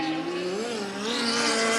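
A race car on the dirt oval at Angell Park exits a turn under a loud, steady engine roar whose pitch rises and dips slightly as it pulls off the corner.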